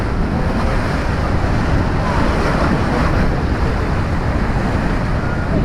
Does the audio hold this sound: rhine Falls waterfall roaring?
yes